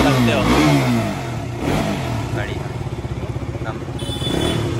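A KTM RC 200 motorcycle engine idles and revs nearby, rising in pitch then settling into a rapid, even pulsing, loud and close, while someone speaks briefly over it.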